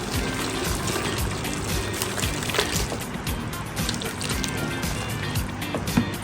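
Hot water poured into a pot over stuffed zucchini, a steady close pour with continuous splashing and trickling that stays even throughout, with no talk.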